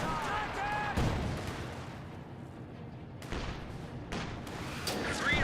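Mortar and artillery shells firing and landing in the real-time strategy game Company of Heroes 2, several heavy booms spaced a second or two apart over rumbling battle noise, with talk and radio chatter mixed in.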